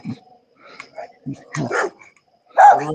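Sporadic dog barks and yips come in short bursts separated by quiet gaps, fairly close, with one sharper bark near the end.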